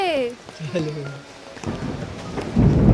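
Thunder rumbles low and growing over steady rain in Darjeeling, with a brief voice speaking at the start.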